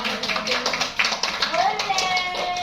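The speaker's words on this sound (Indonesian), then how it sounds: "Tepuk tangan untuk kita semua." A group of people claps together in a positive-discipline teachers' session, a quick irregular patter of hands with voices chattering over it.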